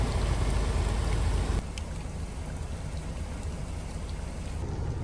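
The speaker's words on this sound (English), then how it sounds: "More rain. More rain." Steady rain falls during flooding at a new home, a dense even hiss that is heavier at first and then settles slightly softer, with no voices.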